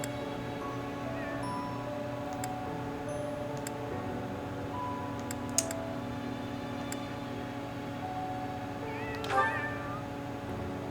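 In the video game Fire Emblem: Three Houses, a cat gives a single short meow near the end over a steady looping musical background, with faint ticks earlier.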